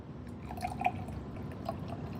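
Water poured into a container in a chemistry lab, with soft trickling and a few scattered drips at moderate loudness and no talk over it.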